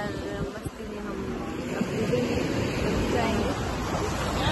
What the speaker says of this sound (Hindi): और ये लहरें आती हुई